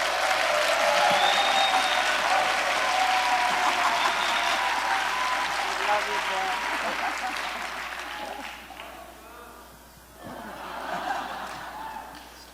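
Audience applause at a conference session, a dense steady wash of clapping mixed with some laughter and chuckles that thins out and dips near the end before a brief swell.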